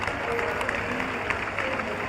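An audience at a Bihar political news event claps for a visiting chief minister, a faint, dense patter of applause continuing steadily in the background without a clear peak.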